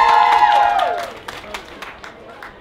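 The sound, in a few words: crowd applauding and cheering at Limerick Pride stage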